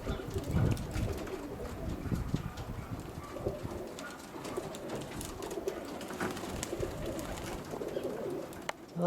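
Young roller pigeons in a loft, giving soft intermittent cooing with some wing flutters and shuffling, faint against quiet background noise.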